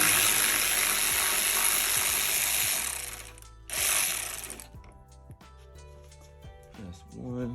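A power tool whirs loudly to back out screws from the air intake box of a 2022 Genesis G70, a steady mechanical whine that stops abruptly, then briefly resumes, followed by light clicks and clatter up close.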